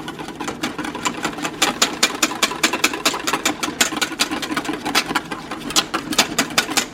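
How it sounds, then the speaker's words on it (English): Cocoa powder being whisked into a drink, a steady fast rhythm of sharp ticking clicks as the whisk strikes the container, fairly close and continuous with no talking. "Whisk in a little bit of that."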